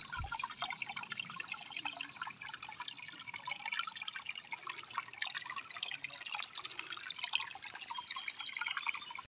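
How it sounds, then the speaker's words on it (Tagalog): Water of a small stream runs steadily through farmland in the hills beside a river, a continuous close bubbling and splashing hiss with no breaks. "maminaw sa Agus dining sapa"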